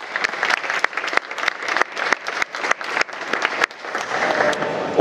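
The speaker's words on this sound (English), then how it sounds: "let's give him a round of applause" An audience at a marine engine launch at the SMM trade fair claps steadily in sustained applause, a dense wash of hands, loud and continuous.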